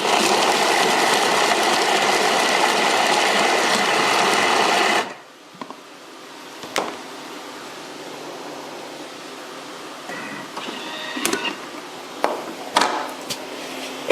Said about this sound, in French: Et donc on va mettre donc le reste de notre chou dans le Thermomix.